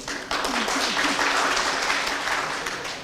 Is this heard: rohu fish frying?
no